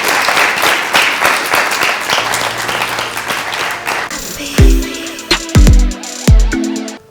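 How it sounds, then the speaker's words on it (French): Studio audience applause for a guest on a French café-style talk show starts as dense, loud clapping, then thins after a few seconds as upbeat music stings and bass hits come in over it. "Et je vous demande d'applaudir Toussaint Natama."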